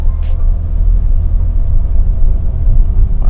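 A modified yellow Honda Brio pulls away with a loud, deep engine rumble that stays close and steady throughout, with no talking.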